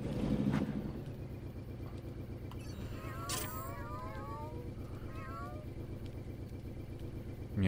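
A cat meows repeatedly in the video game Watch Dogs 2, the calls rising over a steady rumbling engine-like background, with a brief voice at the start.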